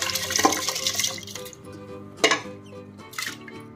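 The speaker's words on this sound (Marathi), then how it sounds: "कंप्लीट 7 वाटे मी पाणी टाकलेलं आहे कुकर मध्ये।" Water being poured into a pressure cooker while making urad dal papad, a continuous splashing pour that fades out, followed by a couple of metallic clanks from the cooker nearby, with no one speaking.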